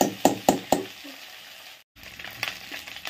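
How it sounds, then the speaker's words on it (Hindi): Small fish frying in a pan while being stirred, with a few sharp sizzling scrapes early on, then a quieter steady sizzle after a brief gap, close and fairly loud, no talking. "चलिए अच्छी तरह से भून लेते हैं।"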